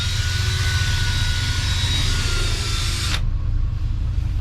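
A power tool drives screws into a boat dashboard panel, giving a steady high-pitched whine over a low rumble that cuts off abruptly near the end.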